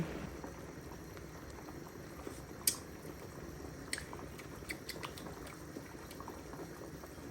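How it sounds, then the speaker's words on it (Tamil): Tomato and egg curry boils steadily in a covered pot, a continuous low bubbling with a few sharper pops and clinks near the mic, and no voices. "இப்போ மூடியை போட்டு மூடி குழம்ப கொதிக்க விடலாம்"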